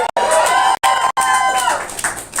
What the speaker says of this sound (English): That is not why we should be clapping.